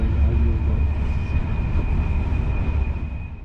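NS Intercity Direct coaches run at speed across the Belgian-Dutch border. A loud, steady rolling rumble carries a thin constant whine above it, with no voices.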